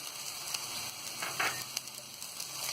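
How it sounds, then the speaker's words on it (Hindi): Green chillies fry in hot oil with browned onions in a pan, giving a steady close sizzle and crackle with a few sharper spits and pops throughout. "इसे हम थोड़ा सा तल लेंगे।"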